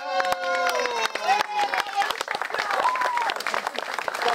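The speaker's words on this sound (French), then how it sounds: "On applaudit." Clapping at an award ceremony, sharp individual claps from a small group mixed with lively talking and voices over the top.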